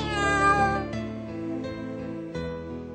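A cat gives a drawn-out, whining meow, close and clear, followed by a couple of shorter tonal mews over about three seconds.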